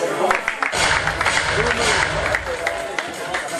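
Audience applause and cheering at a press cocktail and album launch for an Ivorian singer, a dense wash of clapping mixed with crowd voices and babble, loud and close throughout.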